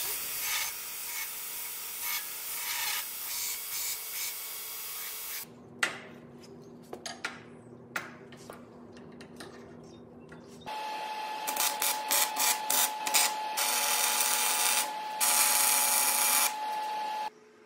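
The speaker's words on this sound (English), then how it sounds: "I have a belt grinder now." Belt grinder chamfering steel flat bar parts for welding, heard in separate bursts: a steady motor whine with the rough grinding hiss of metal against the belt, interrupted by pauses and handling knocks.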